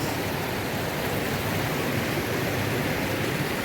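Steady, dense rush of water flowing at Bhivapur Lake in Amravati, a continuous broadband roar without pauses, fairly loud and close, with no voices.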